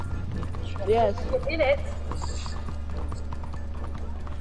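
Horse hooves clip-clop in the Red Dead Redemption video game, a brief run of footfalls near the start under loud talking voices, with a steady low game hum throughout.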